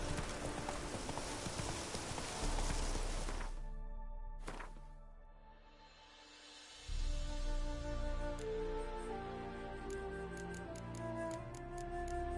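Roach, the horse in The Witcher 3, gallops in a rapid rhythmic run of hoofbeats, loud and close, then fades through a quiet stretch before steady hoof clatter resumes under ambient game sound.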